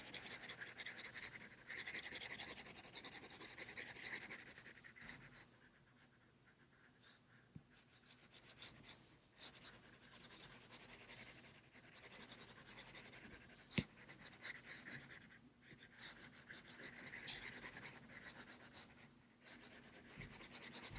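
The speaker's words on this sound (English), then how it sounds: "I'm going to go ahead and then shade in with my pencil" Pencil shading on paper while filling in the mouth of a stick figure drawing: soft, continuous scratchy rubbing strokes, close and quiet, with short pauses between bursts of shading and no talking.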